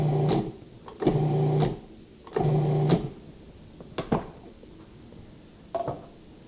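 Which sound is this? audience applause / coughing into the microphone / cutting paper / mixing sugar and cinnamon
mixing sugar and cinnamon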